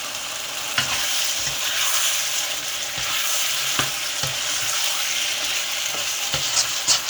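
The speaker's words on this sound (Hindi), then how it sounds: "तकरीबन 3-4 मिनट तक मैं इसको भूनूंगा इसी तरह से।" Mutton fries in ghee in a pan over high heat with a steady, close hiss, broken by scraping knocks of a spoon stirring the meat at irregular intervals.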